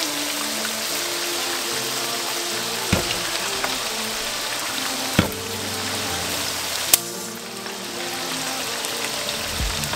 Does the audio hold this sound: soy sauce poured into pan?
yes